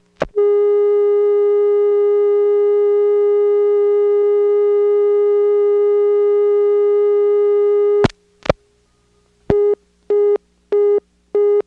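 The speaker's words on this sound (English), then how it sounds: "Here's the PBX dial tone timing out." A steady electronic PBX dial tone from a 1977 motel telephone system holds unbroken for about eight seconds, then times out abruptly into a series of short, evenly spaced beeps.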